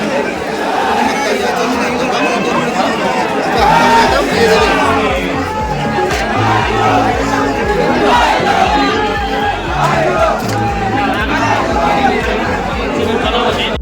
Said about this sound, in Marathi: उतरायला पण मजबूत गर्दी